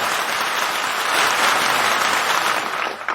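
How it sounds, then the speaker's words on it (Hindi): A crowd at an outdoor poetry gathering in India claps steadily in support, a dense, loud burst of applause that swells slightly in the middle and then tapers off, with no voices over it. "जरा एक बार ताली बजाकर समर्थन कीजिए।"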